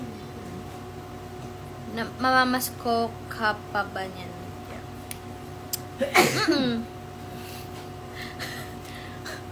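A person sneezes once, loud and close, with sharp breathy bursts just before it, and someone speaks briefly in between.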